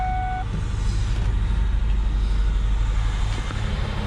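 A 1993-2000 Ford Ranger's 4.0L OHV V6 with a manual gearbox idles steadily just after starting, a loud, even low rumble with a faint beeping tone at the start.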